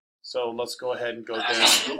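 A single sneeze bursts out in a classroom during a maths lesson, loud and close, following a teacher's spoken words.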